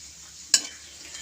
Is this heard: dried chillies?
yes